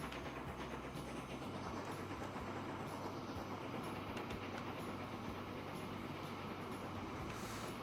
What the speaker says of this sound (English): Let's ride along with one of our lumber trains here.